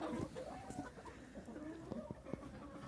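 Chickens cluck softly nearby, with scattered short calls overlapping in an otherwise quiet outdoor setting.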